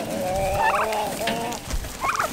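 Turkeys gobble nearby in quick rattling bursts, one early and another near the end, with other fowl calling faintly beneath.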